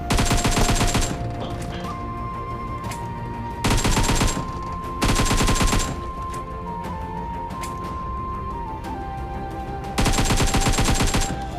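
Gunshots in the PUBG Mobile video game: loud bursts of rapid automatic fire in several separate volleys, with quieter game ambience and a steady tone between them.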